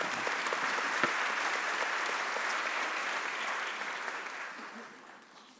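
Sustained audience applause for the panelists of a public-service governance panel at a congress, a dense steady clapping that carries on at full strength and then gradually thins toward the end.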